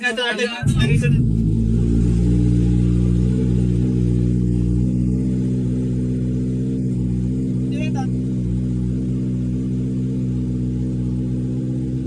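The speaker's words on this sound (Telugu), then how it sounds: "జస్ట్ ఇంజన్ సౌండ్ చెక్ చేసాం అంతే" A Kawasaki ZX10R engine starts with a sharp burst and then holds a loud, steady, deep idle close by, with a slight blip in the middle.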